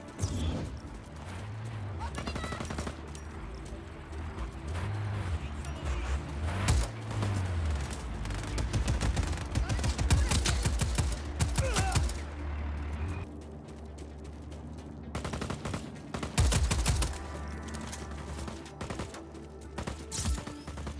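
Gunfire bursts from the video game Just Cause 4, rapid volleys and scattered shots of moderate loudness spread through a noisy combat scene with engine hum and crashes, under game voices.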